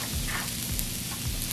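Steady crackling sizzle of food frying in olive oil on a hot tabletop grill, close and continuous, with a low hum underneath.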